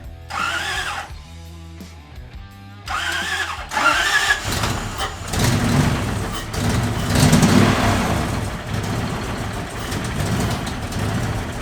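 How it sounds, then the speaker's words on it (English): A Toyota with a swapped-in V8 engine cranks over with a rhythmic whirring starter for a few seconds, pauses, cranks again, then fires and settles into a loud, rough, rumbling idle. "if I turn the key, this motor should turn over"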